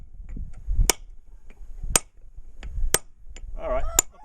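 Four sharp metallic strikes ring out about a second apart, a heavy sledgehammer hitting a steel hand drill for a rock anchor, with a brief voice near the end.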